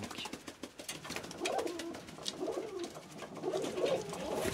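Pigeons in a breeding loft give soft, low, repeated cooing calls, fairly close and quiet, with faint rustling in the background.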